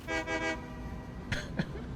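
A train in the video game Satisfactory: a sustained horn toot over a steady low rumble, then two short sharp clicks near the end.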